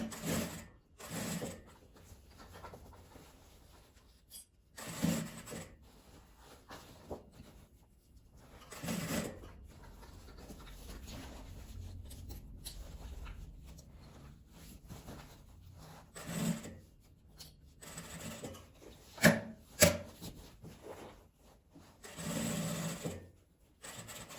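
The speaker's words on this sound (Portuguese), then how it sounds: "Eu vou puxando ele aqui pra dentro, vou costurando devagar nessa parte arredondada." A sewing machine stitches slowly around the curved seam of a sewing-machine cover, its motor whirring in short bursts separated by pauses, with occasional rustling and handling of the fabric.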